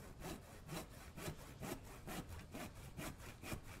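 Wood planks being sawn in a survival video game, a steady back-and-forth rasp of about eight even strokes, close and fairly loud with no talking over it.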